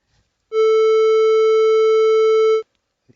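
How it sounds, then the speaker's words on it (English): A single standard tuning A reference tone holds steady and loud for about two seconds, pure and unwavering, with silence before and after. "Here is the standard tuning A"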